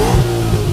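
A ProCharger P-1SC-1 supercharged car engine revs hard and close, a short loud burst of throaty engine roar with a rising whine on top.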